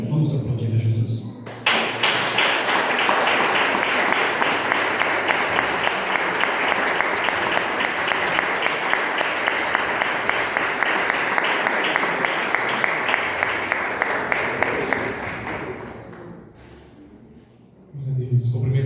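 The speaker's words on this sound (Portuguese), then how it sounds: "Vamos aplaudir a Jesus." Sustained applause from a church congregation during a Sunday family worship service, dense and loud for about fourteen seconds with a sharp start, then fading as talk resumes at both edges.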